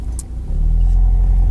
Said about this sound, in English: The engine is a classic inline 4.